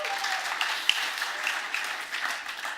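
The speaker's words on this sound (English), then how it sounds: "Give him a big round of applause." An audience at an investor pitch event claps in a sustained, dense round of applause, steady and fairly close, with a few sharper individual claps standing out.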